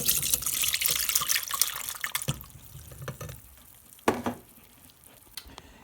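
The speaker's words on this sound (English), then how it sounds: "Our white vinegar has been sitting with these orange peels in it, and we are going to strain it here." Orange-peel-infused white vinegar being strained and poured, a close splashing, trickling liquid stream that runs strongly at first, then thins into sporadic drips and light clinks of glass or a strainer.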